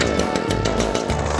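A lawn mower engine is started and revved nearby, a loud buzzing roar that rises and falls in quick pulses over a moment.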